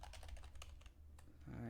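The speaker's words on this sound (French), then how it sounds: "je vais taper mon password" Quick, light keystrokes on a computer keyboard as a password is entered, a brisk run of close clicks that stops after about a second, followed by a short tone and a faint voice.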